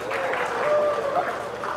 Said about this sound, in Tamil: கைத்தட்டு வராதது இப்ப வருது பாருங்க மாஸ்டர்